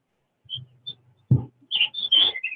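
Birds whistle outdoors beyond a planning commission meeting room: a few short, high, clear calls, fairly loud, broken by a single low thump, with no talk in between.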